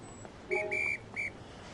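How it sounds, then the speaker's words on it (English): A train whistle from a Thomas the Tank Engine video game on PS5 sounds in two short bursts, a longer steady toot followed by a brief second one, clear and fairly loud against quiet background. "Oh, it's a whistle."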